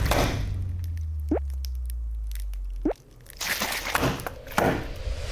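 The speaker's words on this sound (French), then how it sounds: "On a juste fait craquer les glaçons, c'est tout." Ice cubes crack during a supercooled water experiment, with a few sharp cracks and crunches close by over a steady low hum. The hum cuts off partway through and is followed by rustling.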